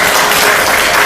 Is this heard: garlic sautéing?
no